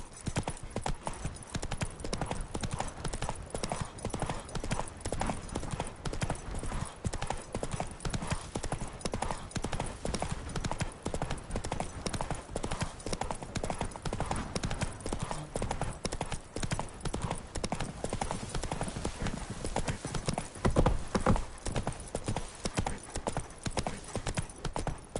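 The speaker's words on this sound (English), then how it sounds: "Run, Roach." Galloping hooves of Roach, the horse in the video game The Witcher 3, pound in a fast, steady, dense rhythm for the whole stretch, loud and close, with a brief heavier burst near the end.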